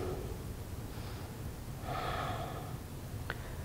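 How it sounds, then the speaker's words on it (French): During a beginner Marichyasana C seated twist in yoga practice, a slow, close breath is drawn in through the nose with a brief sniffing quality, followed by a longer audible exhale, with no talking. "Encore 3 respirations."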